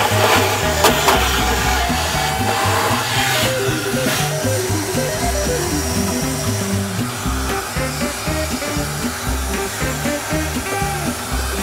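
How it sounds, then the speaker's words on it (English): A vacuum cleaner drones steadily and loudly as it clears dirt from inside a Potterton gas boiler during a service, a continuous whine with rattling and brushing noises underneath. "we're just going to clean it out now with some brushes and a hoover"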